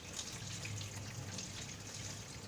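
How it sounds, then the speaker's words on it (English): Cow intestine meat being rinsed under hot running tap water, a steady splashing flow with soft dripping, continuous and close, with no voices over it. "And meat must always go in hot water. So I rinse."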